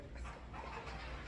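Dog indoors making soft whimpers, yips and panting sounds, faint and close, over a low background hum with no clear speech.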